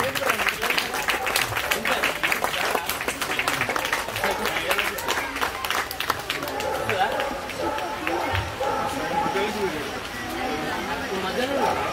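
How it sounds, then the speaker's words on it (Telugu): An audience at a neighbourhood welfare association's Ganesh Navaratri felicitation function applauds, dense sustained clapping mixed with crowd chatter and a talking voice throughout. "కొంచెం చప్పట్లతో గట్టి కొట్టాం సార్"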